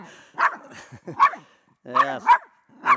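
A small dog barks in sharp bursts while confronting a snake by a shed, the yaps close and loud with short pauses between them.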